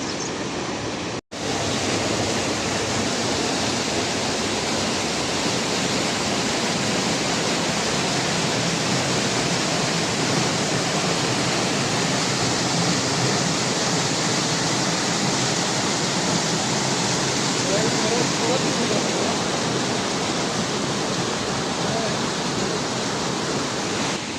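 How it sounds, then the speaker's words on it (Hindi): Water rushes steadily over and between stones below a lake at Stone Nest Lake near Chakwal: a loud, unbroken broadband roar that starts abruptly and holds evenly throughout, with no voices over it. "पानी का शोर है पत्थरों में से।"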